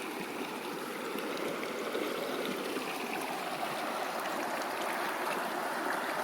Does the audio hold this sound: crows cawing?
no